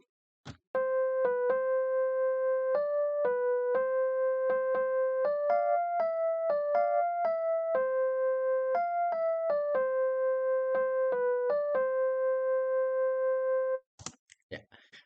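Simple synthesized electronic melody of steady sine-like tones, stepping between a few pitches in an even rhythm for about thirteen seconds, clear and close, ending with a brief click.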